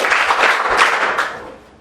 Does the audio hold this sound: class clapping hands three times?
yes